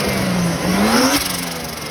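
Modified car with a swapped-in six-cylinder engine replacing the original four-cylinder, revving briefly and close by, the pitch climbing in one quick rise then holding.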